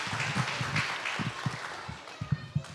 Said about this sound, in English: You can go ahead and give them a round of applause.